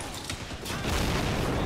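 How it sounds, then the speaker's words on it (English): Dense, crackling video-game explosions from dynamite and demolition satchel charges blowing apart a house, rapid bursts piling up into a continuous roaring barrage, growing louder and heavier toward the end. "Big explosions."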